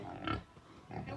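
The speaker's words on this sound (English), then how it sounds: "Karen, why are you troubling the pig?" A pig being bothered at a Jamaican home gives two short, close grunting snorts separated by a brief pause.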